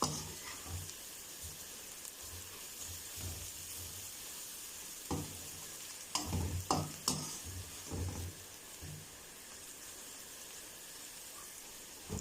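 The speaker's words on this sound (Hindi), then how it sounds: "ये डालेंगे तो थोड़ी देर के लिए मसालों को भूनेंगे ताकि मिर्चों का कच्चापन जो है ख़त्म हो जाए" Spices and chillies roasting in a pan: a steady low sizzle with a hiss running under it, broken by clattering stirs and scrapes of a spoon, louder bursts in the middle, no talking.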